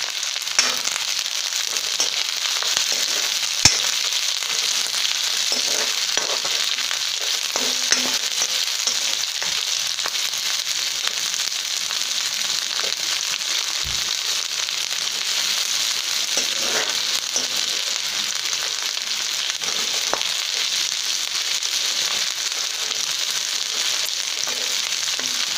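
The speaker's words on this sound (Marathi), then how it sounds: "हा कांदा आपल्याला गुलाबी होईपर्यंत परतून घ्यायचा आहे" Onion sautés in a pan for katachi amti, a continuous bright crackling sizzle heard up close for a long stretch, with occasional small pops and light stirring taps and no voices.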